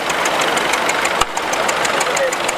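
A larger McCormick Farmall row crop tractor at a steam rally, its engine running loud and close with a steady, rhythmic knocking beat, while people talk nearby.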